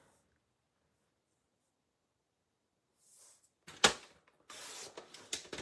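Cardstock being cut to 5 1/4 inches: after near silence, a few short slicing and sliding scrapes arrive close by, with one sharp louder stroke followed by brief scratchy rustles.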